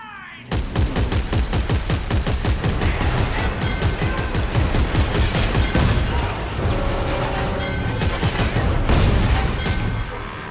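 Rapid, continuous shotgun and automatic gunfire from co-op play in Dead Space 3, loud and close, with dense repeated blasts running almost without pause over a steady battle din.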